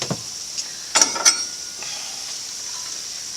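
Pasta shells, three cups of them, stirred in a pot of boiling salted water: a faint bubbling hiss with a few sharp scraping clinks of the spoon against the pot.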